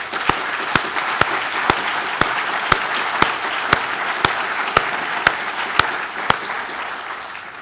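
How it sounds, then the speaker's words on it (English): An audience at a journalism symposium's opening remarks gives a round of applause, a steady wash of clapping with regular sharp percussive hits throughout, moderately loud and without speech. "I think maybe we'll give him the first of what I hope will be many rounds of applause."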